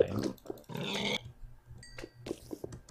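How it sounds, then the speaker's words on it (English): Pigs around a monster spawner in a Minecraft-style video game grunt and oink in a few short bursts, the loudest near the start, followed by quieter scattered game noises and brief high tones. "A monster spawner, pigs, more pigs, pigs, pigs, pigs."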